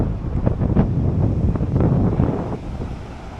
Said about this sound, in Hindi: मस्त हवा चल रही है।